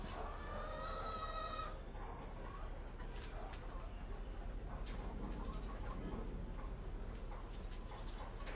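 Chickens cluck and murmur in the background of a garden over a steady outdoor hum while being fed, with a brief rooster-like call near the start.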